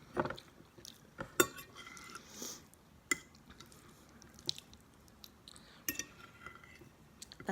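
A metal fork clinks against a dish during a low-carb zucchini-noodle spaghetti meal, with several sharp close taps and scrapes scattered among soft wet squishing and chewing sounds; no talking.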